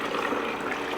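Clean water poured from a container in a home kitchen, a short continuous splashing trickle at close range with no talk over it.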